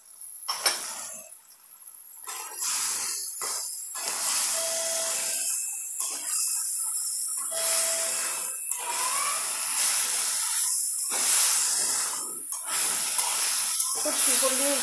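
Dried loitta fish and tomatoes fry in a pan with loud, steady hissing and sizzling, broken by pauses and scraping as they are stirred, while someone speaks over it at times.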